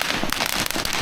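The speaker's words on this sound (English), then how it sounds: "Small cracker." Small firecrackers exploding at a Chinese New Year celebration in 2024, a loud rapid burst of sharp crackling pops, close and alone.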